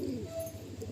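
Madrasi pigeons coo softly in low, rhythmic pulses, close by and fairly quiet, with a faint background hum.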